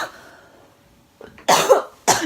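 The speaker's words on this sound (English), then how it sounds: "This cough won't go away." A man's cough comes in two loud, harsh bursts close to the microphone after a brief quiet pause, with a faint breathy sound at the start.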